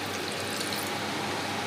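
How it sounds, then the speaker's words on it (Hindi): Water poured steadily into a besan curry gravy in a cooking pot, a continuous close, loud pouring rush with no talk. "अब हम इसमें पानी डालेंगे।"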